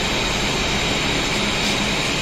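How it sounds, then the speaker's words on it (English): A blower for a laser cutting machine runs with a loud, steady broadband roar and hiss close to the listener, unchanging throughout. "Here you can see we have a blower."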